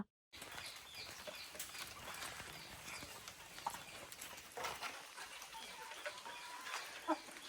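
Village chickens pecking at scattered feed outdoors: a dense, steady patter of quick taps and scratches with occasional faint clucks, heard without any talk.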